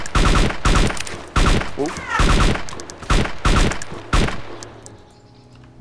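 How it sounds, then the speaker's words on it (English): Rapid bursts of gunfire in the survival game DayZ, several loud volleys cracking in quick succession with ringing tails, a brief exclamation from a player mixed in before the shooting fades out. "Still taking shots."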